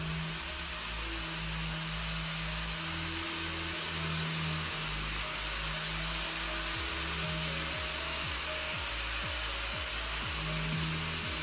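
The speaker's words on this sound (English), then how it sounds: "started off by sanding the wood, which will later be painted white" A continuous mechanical whir with a rough grinding texture, a sander running steadily against bedroom wood floors, constant and fairly close throughout.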